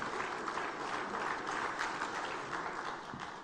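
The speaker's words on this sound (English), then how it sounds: "I thought you were going to clap for our vice president" An audience at a formal public enterprises event in Ghana claps for the vice president, a fairly faint but sustained spread of many hands that tapers slightly at the end.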